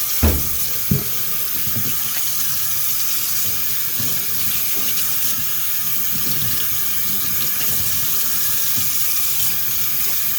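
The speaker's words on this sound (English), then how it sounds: "I like to put a little hot water in there too. Hot water breaks it up a lot better." Hot tap water runs steadily into a sink to clean paint rollers, a continuous close hiss and splash of flowing water with a couple of small knocks at the start.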